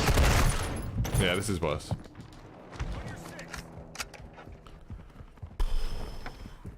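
Pistol shots ring out in Call of Duty: Modern Warfare 2, sharp cracks spaced irregularly over game noise, with someone talking briefly over the action.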